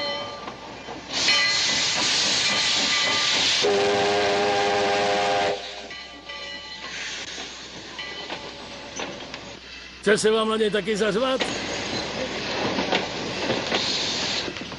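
A steam train hisses loudly and steadily, with a shrill steam whistle blast partway through, while people talk over it.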